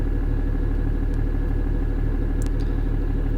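Steady, loud tractor engine drone from the Farming Simulator video game, a continuous low rumbling idle with an even throb and no talk over it.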